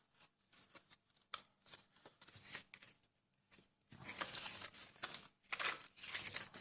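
A paper card is creased and folded into a tri-fold shape by hand, with soft crinkles, taps and rustles that grow busier and louder partway through, heard close up.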